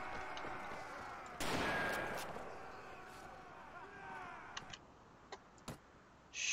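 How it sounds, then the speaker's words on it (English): Gunshots ring out in the Mount and Blade 1866 western game: one loud blast followed by several sharp, spaced shots and clicks, with a voice talking faintly underneath. "I'm shooting at that guy."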